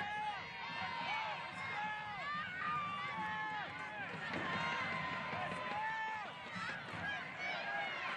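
A home crowd at a Rhinos soccer match in Capelli Sports Stadium keeps up a continuous roar, heard throughout under a commentator's voice.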